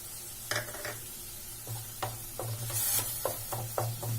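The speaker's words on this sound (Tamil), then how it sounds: "இந்த காஞ்ச மிளகாவும் பூண்டோட பச்சை ஸ்மெல் போது வரைக்கும் நம்ம லைட்டா இதை வதக்கிக்கலாம்" Dried red chillies and garlic sautéing in oil over a low flame, a soft sizzle under a low hum with several distinct spoon scrapes and stirs at irregular intervals, close and fairly quiet, no talking.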